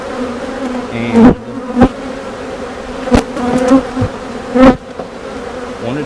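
Honeybees buzz in a steady, close drone around an opened hive during a May inspection, with several sharp knocks as the bottom board is banged to shake the bees off.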